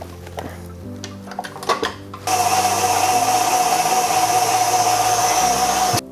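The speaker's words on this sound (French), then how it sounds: "On met la crème dans la cuve du batteur et on va la laisser foisonner." A stand mixer whips cream in its bowl for an entremets, a steady loud motor whir with a fixed whine that starts abruptly after a few soft kitchen clinks and runs evenly until cut off.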